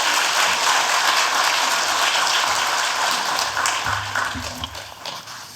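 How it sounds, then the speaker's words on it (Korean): A church congregation of several hundred bursts into dense, sustained applause that fills the room, then thins and fades toward the end. "떨지 말고 잘하도록 우리 격려의 박수를 한번 하도록 하겠습니다."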